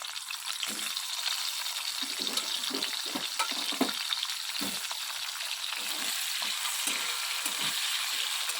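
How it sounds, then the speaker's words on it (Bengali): Potatoes fry in oil left over from frying fish, giving a continuous bright sizzle with soft crackles and the occasional scrape of a utensil, steady and close. "ওই মাছ ভাজার যে তেল আছে ওর মধ্যেই আমি আলুটা ভেজে নেবো"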